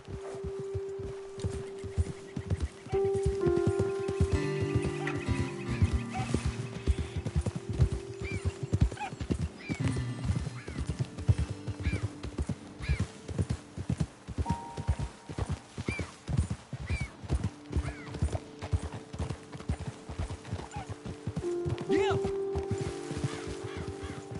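Horses walking on a trail in Red Dead Redemption 2, steady clip-clopping hooves with occasional neighs and whinnies running throughout, mixed with ambient game sounds and background music.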